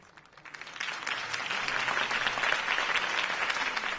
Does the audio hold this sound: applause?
yes